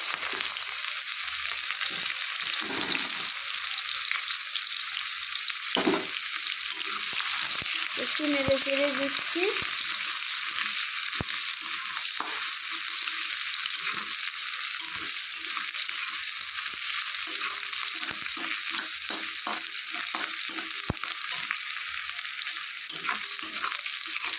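Hot oil left from frying fish crackles steadily as nigella seeds and a dried onion go into it, a continuous near sizzle with a few brief clinks and stirring knocks, no voices.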